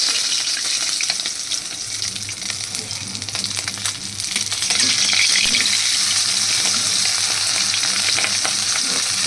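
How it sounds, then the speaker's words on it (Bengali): Pieces of foli fish frying lightly in oil for a potato and fish curry, a loud, steady sizzle up close with clinks and stirring sounds, and the frying grows louder halfway through. "একটু হালকা হালকা ভাজবে, মানে খুব কড়া করে ভাজলে হবে না"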